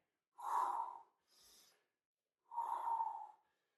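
Heavy breathing during a core-cardio workout: three close, forceful exhalations, two long and strong with a softer short one between, separated by silence.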